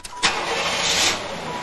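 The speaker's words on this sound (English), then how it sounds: "set the park brake and start the engine" A 1990s-2000s GM vehicle's engine starts with a loud crank burst and catches at once, settling into a steady, close, broad running roar with no talk over it.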